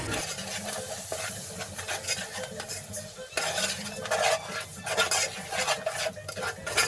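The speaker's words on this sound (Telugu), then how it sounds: "తర్వాత దాంట్లో 2 స్పూన్స్ గల్లుప్పు, 3 స్పూన్స్ కారం వేసుకొని బాగా మిక్స్ అయ్యేలాగా తిప్పుకోండి." A spoon scrapes and stirs salt and chili powder through an egg biryani mixture in a pot, with repeated rhythmic metal scrapes over a soft sizzle, close and fairly loud.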